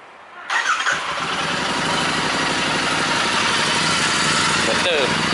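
A Royal Enfield Interceptor 650 motorcycle with a freshly changed DNA air filter fires up and settles into a steady, close, throbbing idle, its twin-cylinder rumble continuous to the end.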